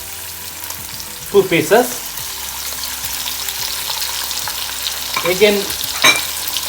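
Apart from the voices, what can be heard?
turkey bacon frying in a pan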